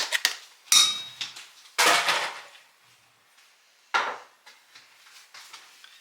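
Leftover rotelle pasta dumped into a soup pot lands as a few sharp, clattering bursts with brief rattles between them, close and distinct against a quiet background.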